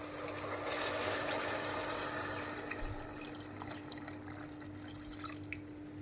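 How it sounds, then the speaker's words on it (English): Water pours into a pan of long grain rice in a continuous splashing stream, close by and moderately soft, with a few scattered drips and clinks. "So here goes the water."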